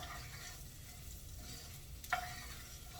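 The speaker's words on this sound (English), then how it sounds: "Can you hear that sizzle?" Leftover pork chops fry in about a tablespoon of oil in a pan, giving a steady soft sizzle with faint stirring, and a brief clink of a utensil partway through; no one speaks.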